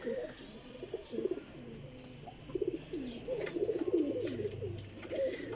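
Champion flying pigeons coo in repeated soft, throaty rolling phrases close by, faint and intermittent, with low murmuring in the background.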